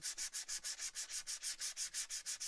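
A wood-burned surface is scrubbed with quick, even back-and-forth strokes, a rhythmic rasping rub repeating about six times a second, close and moderately quiet with no talk.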